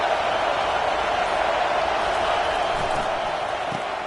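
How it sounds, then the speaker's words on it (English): Steady roar of a packed stadium crowd at an early-season college football game, Michigan at Notre Dame, a dense wall of cheering and noise that holds at a loud level throughout. "It's early, but this crowd is fired up. Listen to this noise here."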